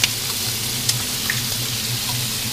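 Bacon pieces fry in a pan, a close, steady sizzling crackle with a few sharper pops, no talking.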